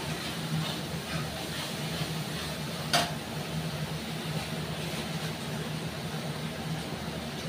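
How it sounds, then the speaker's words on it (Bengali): A spice masala is stirred steadily in a pan, giving a constant sizzling, scraping hiss with one sharp clack partway through. "এবার মশলাটাকে আমি খুব ভালো করে মশলাটাকে নাড়বো"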